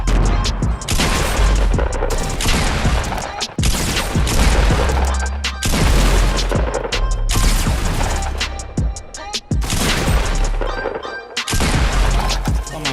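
Rapid shotgun blasts and impacts from a Fortnite match, loud and dense, with heavy bursts packed together across most of the stretch and a few brief lulls between volleys.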